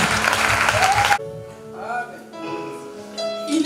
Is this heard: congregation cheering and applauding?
yes